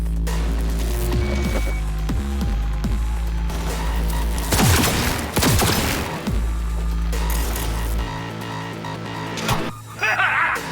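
Gunfire and crashing impacts from combat in Cyberpunk 2077 form a dense mix of bursts, booms and mechanical hum, with sharp clusters of shots in the middle and steady background throbbing throughout.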